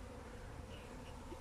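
Honey bees drone in an opened hive, a faint but steady close buzzing with no speech.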